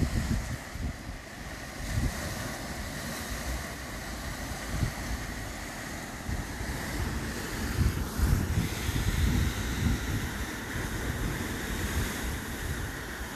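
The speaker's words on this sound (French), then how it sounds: "Ça, c'est les vagues." Waves wash steadily onto the shore of Lake Michigan, a continuous broadband rush mixed with wind buffeting the microphone, with no clear breaks.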